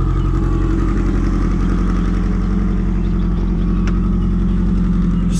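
A car named Onyx, freshly fueled with ethanol, runs with a loud, close, steady engine drone and deep exhaust rumble that holds evenly throughout.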